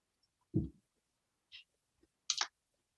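Computer keyboard keys clicking during typing, a few sparse, separate clicks and taps at irregular intervals, close and alone in an otherwise quiet room.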